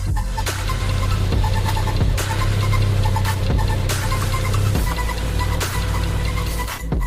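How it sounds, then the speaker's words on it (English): A damaged Volkswagen Golf 8 GTI sets off on a test drive, giving a steady, close, low engine drone with occasional knocks and clicks over it. "now we're going to do a first test drive"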